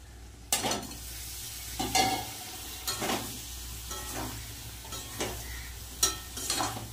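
Cut eggplant stirred in a frying pan while cooking for a Bengali fish-oil curry, a continuous sizzle broken by about six sharp spatula scrapes at irregular intervals, close and clear.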